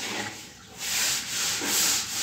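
Close, loud sanding of a fiberglass water tank at a Dubai work site: continuous abrasive rubbing that swells and eases in long strokes, with no voices.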